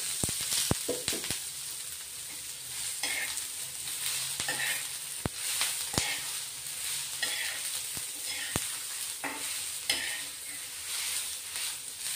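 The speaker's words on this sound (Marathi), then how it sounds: "तेल टाकल्याने पटकन भाजले जातात कांदे." Onions sizzle and crackle steadily in hot oil in a pan, with a busy frying hiss and repeated scraping and stirring clicks throughout, close and continuous, no speech.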